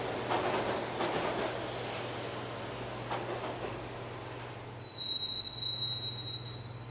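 Subway train riding in the Max Payne video game, a continuous rumbling ride with a low hum and clatter, ending in high, piercing wheel squeals as it brakes.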